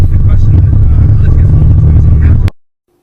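Loud, droning engine roar of a street-legal front-wheel-drive race car while driving, constant and close for a couple of seconds, then cutting off abruptly into silence.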